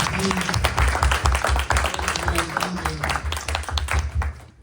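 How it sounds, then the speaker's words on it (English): A crowd claps warmly for a speaker at an event, loud continuous applause with distinct individual hand claps close by and some voices mixed in, fading slightly toward the end. "everybody give Mary a round of applause."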